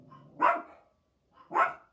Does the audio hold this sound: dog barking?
yes